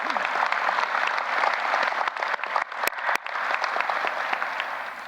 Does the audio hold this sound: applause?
yes